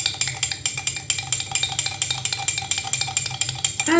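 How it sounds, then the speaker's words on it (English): A spoon stirs a mock White Russian in a glass, clinking quickly and rhythmically against the sides for several seconds, close and clear with no talking. "And give it a good stir."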